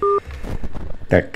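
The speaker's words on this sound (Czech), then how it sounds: "to byl telefon" Telephone on a radio call-in show: a short two-tone electronic beep at the start, then low studio talk and a word from the host.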